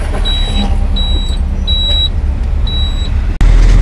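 Heavy road traffic in Kandy town, heard as a steady loud rumble of engines with a series of repeated high electronic beeps, like reversing or warning tones, and a brief sharp knock near the end.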